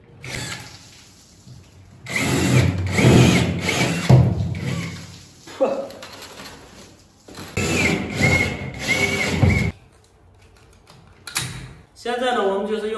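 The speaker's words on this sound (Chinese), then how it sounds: "现在呢，我们就是用这个加长钻头直接打孔，这是12的钻头。" An extended 12 mm drill bit bores a hole while a ceiling-mounted clothes drying rack is being installed, in two loud, grinding bursts of a few seconds each, with someone talking between them.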